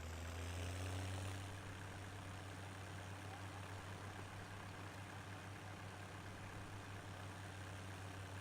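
A tractor engine in the Farm Simulator 17 video game idles in a steady low drone, somewhat louder for the first second or so before settling to an even, continuous rumble with no talk.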